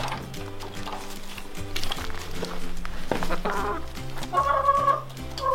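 Several chickens cluck and murmur nearby in short overlapping calls, over low background music, with a sharper squawk near the end.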